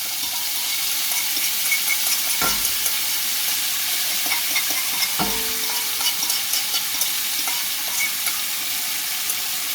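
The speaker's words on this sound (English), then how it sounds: "let's like just throw these beans into that grease" Beans hit hot grease in a pan, giving a loud, continuous sizzle and hiss with two brief scraping thumps of stirring, steady throughout and free of speech.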